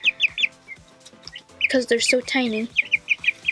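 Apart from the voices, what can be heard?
chicken clucking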